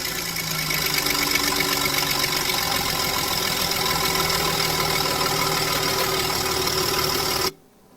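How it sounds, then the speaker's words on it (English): A BMW X5 idles steadily with a three-quarter-inch hole in the exhaust, giving a constant low, even drone that stays level before cutting off abruptly near the end. "You'll notice the exhaust sound is there, but not nearly as loud as what one would expect."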